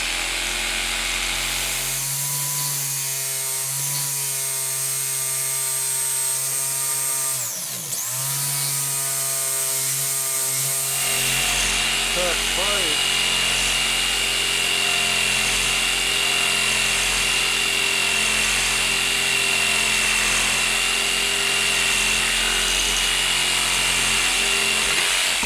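A power saw blade whines through wood for a gem sieve build, the motor spinning alone before the cut and then a louder, sustained cutting roar continuing to the end.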